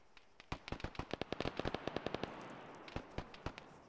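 Gunfire in a video game battle for Kavala: fast bursts of sharp, cracking shots in rapid rhythm, then a pause and a few more scattered rounds, sounding somewhat distant and fairly faint.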